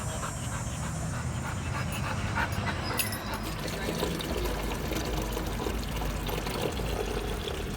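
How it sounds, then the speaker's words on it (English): Water pours and splashes continuously from a drinking fountain in Traverse City, Michigan, while a dog pants close by, with a brief whimper. "thankful for these water fountains here in Traverse City"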